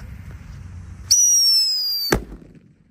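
A blue Happy Power 3 paper firecracker lit for Eid al-Adha gives a sharp, loud whistling hiss for about a second, then cuts off in one abrupt close burst, over faint background noise.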